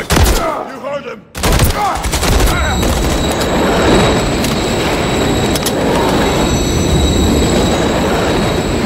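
A train rumbles past loudly with clattering wheels and high metallic squeal in Call of Duty: Modern Warfare 3, preceded by a few sharp bangs and brief voices.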